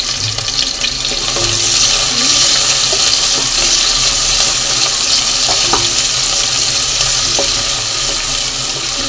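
Four onions sautéing in hot oil with cloves and cardamom for mint rice, a loud, continuous close sizzle with faint scraping stirs underneath, running steadily with nobody speaking.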